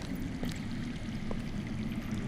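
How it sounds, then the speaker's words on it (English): Underground water rushes steadily in the Game of Thrones video game, a continuous, even gurgling flow with no pauses. "I hear water. From underground."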